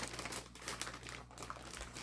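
Sealed plastic bags from a Revell 1/144 Apollo 11 Saturn V model kit crinkle and rustle continuously up close, a dense papery crackle with a few sharper crunches.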